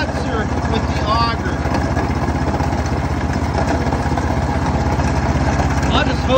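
A small snow blower engine runs steadily while clearing wet snow, a close, pulsing mechanical chug with a rapid regular beat and an occasional higher whine, with voices heard over it.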